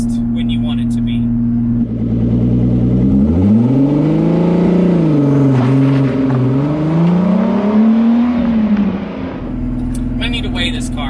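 A 1988 Pontiac Fiero coupe with a turbocharged VR6 and rear exhaust idles loud and close, then revs up and holds high, sweeping up and down before settling back to idle.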